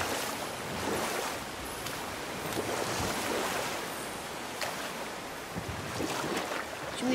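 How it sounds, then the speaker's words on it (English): A huge waterfall in God of War, heard as a steady, dense roar of rushing water with a windy, surf-like wash that stays constant and moderately loud throughout, with no talking. "never seen a waterfall so big."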